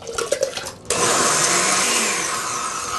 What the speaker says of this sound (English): We're going to blend this until it's smooth.